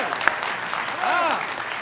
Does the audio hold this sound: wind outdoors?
no